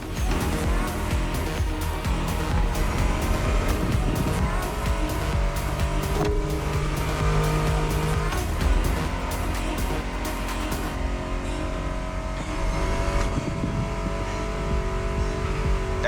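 Loud, steady roar of American muscle car engines, including a Mustang, revving and accelerating in The Crew Motorfest, layered over continuous 1980s-style music with a driving beat, dense and unbroken throughout.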